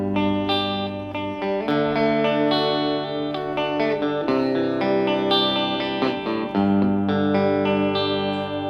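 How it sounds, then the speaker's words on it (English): A clean electric guitar through a clean amp with only reverb on plays sustained chords and single notes with a soft reverb tail, steady and fairly loud, with no voices. "just to listen what the amp just sounds like clean"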